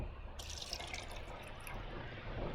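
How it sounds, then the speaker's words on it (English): Water poured into a cup in a classroom demonstration, a steady close liquid pour with a brighter splashing onset after the first moment, continuing evenly throughout. "Now, I'm going to pour some water into here."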